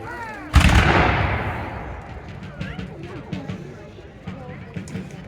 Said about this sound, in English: At close range, a cannon are likely firing canister, which was a metal can filled with musket balls